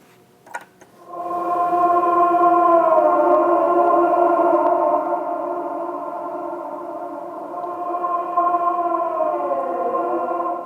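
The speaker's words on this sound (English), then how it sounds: "And so the Mellotron Rhodes sounds like this." A Mellotron Rhodes plays sustained ambient chords in a neoclassical ambient piece, with a seagull-like pitch bend sliding the tones near the end; steady and moderately loud after a short lead-in.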